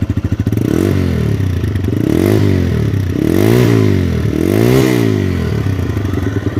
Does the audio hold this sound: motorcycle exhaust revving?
yes